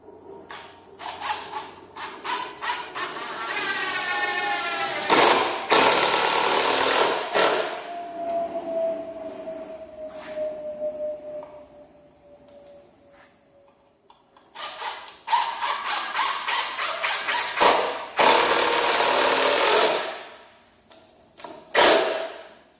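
A power drill drives 4-inch deck screws into a log for a picnic caddy, whirring in several loud bursts with a falling pitch as each screw seats, separated by pauses and quieter handling clicks.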